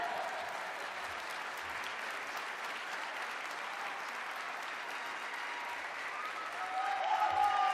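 A graduation audience claps and cheers for an award recipient, a steady dense wash of applause with faint shouts that swells slightly toward the end.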